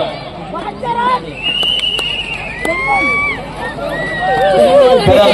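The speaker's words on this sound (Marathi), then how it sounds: "रसिकांच्या टाळ्यांचा गजर आणि आवाज निश्चितच आपल्याला या ठिकाणी मैदानामध्ये घुमताना आपल्याला बघायला मिळतोय" Spectators at the Raigad Kabaddi League 2025 mega final fill the ground with a continuous roar of cheering, applause and shrill whistles, loud and sustained, swelling toward the end.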